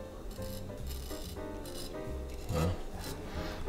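A knife made from a shovel is stropped in a series of soft, repeated rubbing strokes, fairly quiet and close, with no talking.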